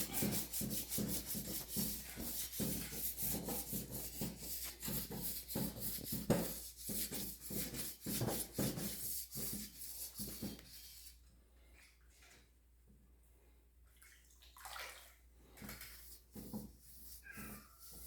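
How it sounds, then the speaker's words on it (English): Steady rhythmic sanding strokes rasp back and forth up close on the grill of a Kubota mini dozer for about ten seconds, then stop, leaving quieter scattered rustling and faint handling noises. "That's about enough of that sanding."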